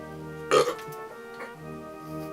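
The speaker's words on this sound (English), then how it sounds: "Yeah, they burped." A single short, loud burp rises over a quiet background hum, followed by faint murmurs.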